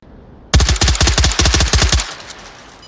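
A FAMAS rifle in the VR shooter Onward fires a rapid burst of about a dozen close, loud shots over roughly a second and a half, then cuts off into a short fading echo.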